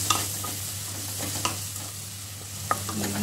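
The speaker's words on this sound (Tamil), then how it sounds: "இதில் கொஞ்சோண்டு மஞ்சப்பொடி போட்டுன்னு இதிலே எண்ணெயிலே வதக்கணும்" Prawns sauté in hot oil with turmeric for a Tamil prawn thokku, giving a steady close sizzle punctuated by a few sharp spoon scrapes and stirs.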